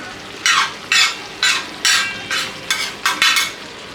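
Tawa chicken masala being stirred in a hot pan, with bursts of sizzling as the spatula scrapes through roughly eight times in a steady rhythm. The frying is loud and close, and nobody speaks.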